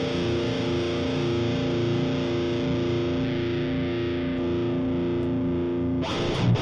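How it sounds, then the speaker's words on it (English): Electric guitar played through a high-gain amp simulation from a DI signal, giving a fizzy distorted metal tone; a loud, dense sustained chord rings steadily for about six seconds, then cuts off with a brief scrape. "That gives me that nice fizzy distortion right there."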